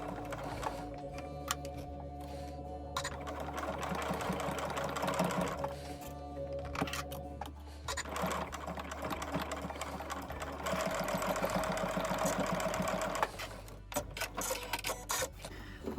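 A sewing machine stitches in the ditch on a zippered pouch, whirring close and steady in several bursts separated by short pauses. Faint talk comes in here and there.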